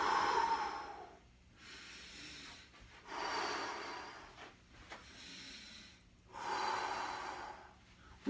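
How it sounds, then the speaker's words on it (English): Slow, deep belly breathing, with long audible inhales and exhales alternating in about four full cycles, close and breathy, with no talking. "We're doing belly breathing."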